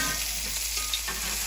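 A pork rack sears in a hot pan, giving a steady, close hiss and sizzle of fat with no talk, the crackle even and unbroken throughout.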